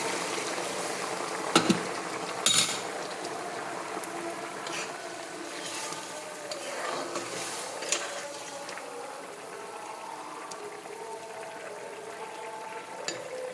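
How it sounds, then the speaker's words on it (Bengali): Fish and cauliflower curry simmering after boiling hot water is poured in, a steady bubbling hiss with a few sharp clinks of a utensil against the pot, fairly close and alone without talk. "এই গরম জল ঢেলে দিলাম, ঝোল দিয়ে দিলাম। ফুটন্ত জল, চটপট রান্নাটা হয়ে যাবে।"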